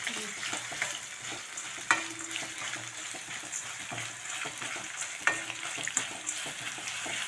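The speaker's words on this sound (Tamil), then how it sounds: "இப்போ பிரண்டை கட் பண்ணதுக்கப்புறம் இதை வந்து நல்லா வதக்கணும்" Chopped pirandai (adamant creeper) frying in oil, a quiet steady sizzle with light stirring scrapes and a few sharper clicks of the spatula against the pan.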